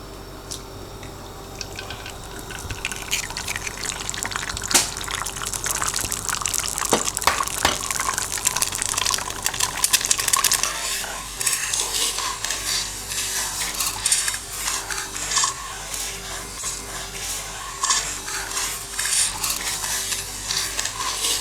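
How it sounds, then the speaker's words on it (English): Sunny side up egg frying in a pan, a loud, steady crackling sizzle with spitting pops and occasional clicks, continuing unbroken throughout. "we're going to cook our sunny side up egg."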